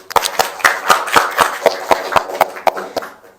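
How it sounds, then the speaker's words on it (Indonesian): Students in a classroom clapping for their classmates, with a dozen or so distinct, fairly sharp claps in a loose rhythm that fade toward the end, and a faint voice underneath. "Tepuk tangan teman-temannya tadi"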